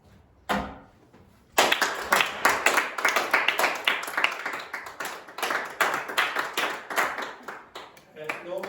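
A class claps together in an English lesson, a lone clap first, then several seconds of loud, fast, uneven group clapping close by, with some voices underneath.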